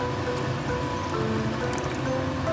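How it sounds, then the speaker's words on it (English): Stock or hot water pours into a braising pot of soy sauce, rock sugar and fried onions for braised pork rice, with a steady close trickling and splashing and a faint sizzle beneath. "Add 4 cups of stock or hot water."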